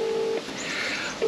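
A phone call rings out from a mobile in a remote Australian forest, a steady ringback tone that stops and then starts again, loud and close with faint background noise.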